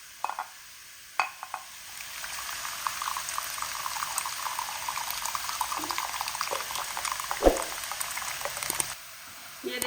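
Chana dal bubbling over a high flame as its water boils off, a steady close sizzling simmer that holds for most of the clip with a few brief knocks and clatters, no voices.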